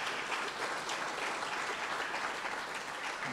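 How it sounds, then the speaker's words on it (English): Steady, even applause from a school audience at a speech day awards ceremony, a continuous wash of many hands clapping with no pause throughout. "Round of applause."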